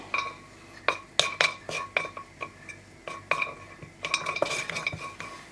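Nutmeg pieces roasting in a pan for Goan garam masala: a spoon stirs and clinks against the metal in quick irregular taps, close and fairly quiet, with soft speech beneath.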